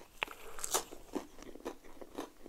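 Crisp, close crunches and snaps come as a homemade mini pizza's crunchy bottom crust is bitten and chewed, with quiet chewing sounds between the sharper bites.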